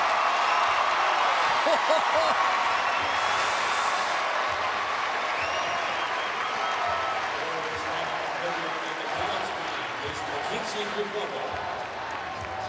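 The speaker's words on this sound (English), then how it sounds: "Listen to this crowd." A college women's gymnastics arena crowd, Alabama against Florida, cheers and applauds in a broad sustained roar with whoops, while a commentator talks over it throughout.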